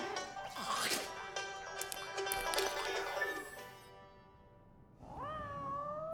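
A cat meows in a cartoon scene, a few drawn-out, rising and falling cries near and fairly loud, with a clearer wavering meow near the end.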